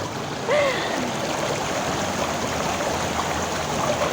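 River water flows steadily in an Indonesian village setting, a continuous broad rushing wash that stays even throughout, with a brief high chirp near the start.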